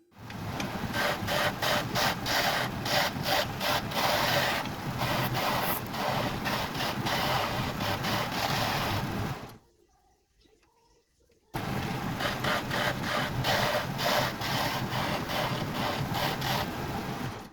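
A wooden pen blank is cut in a woodworking shop with a steady, rhythmic rasping cut that runs for several seconds, stops briefly, then starts again and continues at the same close, even level.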